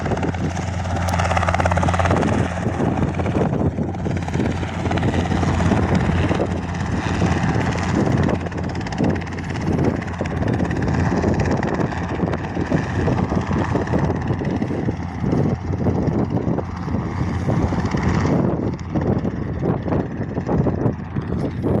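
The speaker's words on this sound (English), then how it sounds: "Air Flight Cessna C-182 has also come into land." A Cessna C-182 light aircraft coming in to land on a windy day, its loud propeller engine droning steadily throughout with broad rushing noise, no talk.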